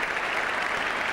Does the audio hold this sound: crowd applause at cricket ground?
yes